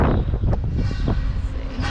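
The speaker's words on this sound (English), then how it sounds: "It's really windy but drier." Strong wind buffets the microphone in low, gusty rumbles, with faint voices mixed in under the roar.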